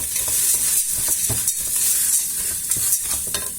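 Lentils with spices and garlic stirred in a hot pan for a Moroccan lentil dish, a close continuous sizzle with rhythmic scraping strokes of the spoon, no voices.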